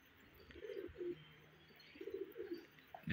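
Makkawi pigeons on a rooftop loft coo in two soft, throaty bursts with a brief chirp near the end, close and moderately loud, with no talking.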